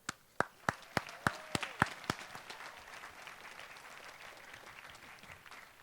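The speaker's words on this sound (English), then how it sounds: "may I please give a round of applause to all the sponsors for the fireworks show tonight" Graduation audience at Sebastian River High School applauding, opening with several sharp, spaced claps that thicken into a steady wash of crowd clapping, moderately distant and sustained to the end with no talk.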